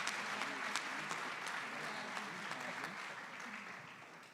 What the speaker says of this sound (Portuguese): Louve a Jesus, igreja, com a salva de palmas